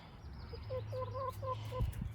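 Close, soft clucking and honking calls from chickens, a few short vocal notes in a quiet setting.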